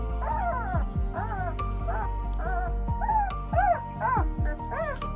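A two-week-old puppy fusses with a run of thin, rising and falling whimpers and squeaky yips, close and fairly steady across several seconds, with soft background murmur.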